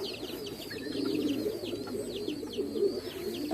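Pigeons coo in a soft, continuous low murmur while feeding on dried fish, with higher chirps and calls scattered over the top, close by and steady throughout.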